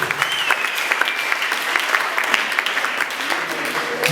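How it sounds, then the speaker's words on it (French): An indoor audience at a training session breaks into dense, steady applause, many hands clapping together at a moderate distance for several seconds. "applaudissez s'il vous plaît."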